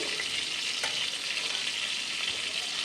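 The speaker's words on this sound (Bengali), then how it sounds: "এখানে আমার মাছগুলো ভাজা হয়ে গিয়েছে এবার আমি মাছগুলোকে নামিয়ে নিচ্ছি" Shrimp frying in hot oil in a pan, a dense continuous sizzle close up with a faint scrape or two as the pieces are lifted out, no voices.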